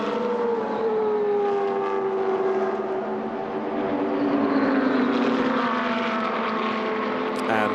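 A Brabham GT2 race car at Paul Ricard howls past, its engine note sweeping down in pitch as it pulls away, with a commentator talking over it.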